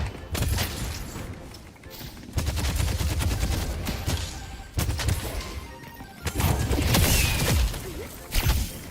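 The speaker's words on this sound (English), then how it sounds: "Please stop shooting." Video game gunfire crackles in dense bursts of shots and crashes that come in waves, loud and close, with short lulls between volleys.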